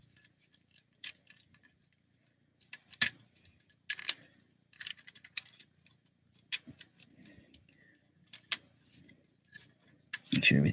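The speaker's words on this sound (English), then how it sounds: "Fold those parts down, they become the center of the roof." Plastic Transformers Brawn figure parts are folded down and clicked into place, sharp scattered snaps and small clicks in irregular bursts, close up, with faint voice underneath.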